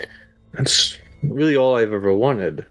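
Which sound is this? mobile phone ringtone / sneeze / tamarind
sneeze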